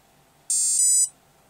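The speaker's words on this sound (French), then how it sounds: "Le bip comme quoi il a validé." An electronic speed controller on a multirotor flight board gives a single loud, high-pitched confirmation beep of about half a second, with a slight step in pitch partway through, set against near silence.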